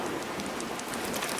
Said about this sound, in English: It falls onto the Amazon with the rain.